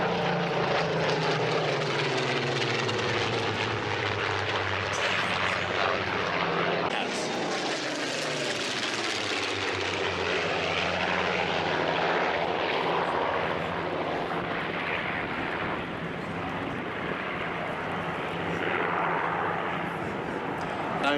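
Propeller warbird aircraft flying at the Duxford Flying Legends airshow, a loud sustained engine drone that rises and shifts in pitch as it passes, with a commentator talking over it.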